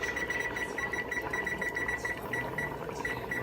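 Kitchen timer set while cooking jambalaya beeps in a quick repeating pattern, close and clear over a low background hum.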